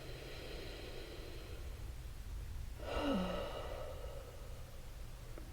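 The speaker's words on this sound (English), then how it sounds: "let's take our deep breath first" A single deep breath, drawn in and then let out as a soft, near sigh with a faint voiced edge, rises briefly above a quiet, steady hiss in a calm tarot-reading session.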